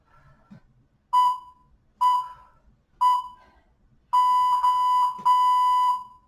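A workout interval timer beeps during a total body conditioning class: three separate shrill electronic beeps about a second apart, then a longer sustained tone broken into a few held segments, loud and with no talk over it.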